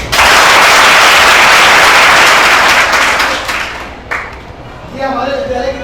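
A crowd of schoolchildren at a health awareness programme claps loudly for about four seconds, a dense roaring burst that fades out before a voice starts talking.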